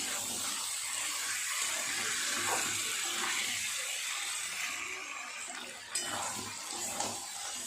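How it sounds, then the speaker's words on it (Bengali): Water used to rinse a blender jar splashes and trickles into a cooking pan of chicken curry in a home kitchen, a steady pouring wash with a couple of small clinks near the end. "জার ধোয়া জলটা দিয়ে দিলাম"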